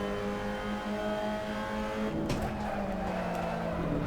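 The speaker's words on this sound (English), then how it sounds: "You can see I'm downshifting early to kick the back end out" Race car in the Assetto Corsa racing game at Mugello, engine droning steadily throughout, then a sharp downshift with revving and tire scrub as the back end slides out, loud and close with no talk.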